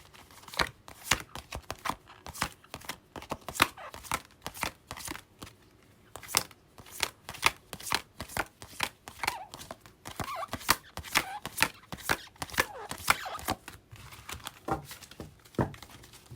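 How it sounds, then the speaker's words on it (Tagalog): Rapid crisp riffling bursts repeat again and again, like a deck of cards being shuffled and bridged up close, with brief pauses between shuffles. "Kuha lang ako ng iba pang baraha, Gemini."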